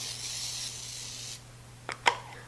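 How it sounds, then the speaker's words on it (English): A can of nonstick cooking spray with flour hisses steadily into a 9x13 baking dish for just over a second. After a short pause come two sharp little clicks. "spray your 9x13 baking dish with some nonstick cooking spray"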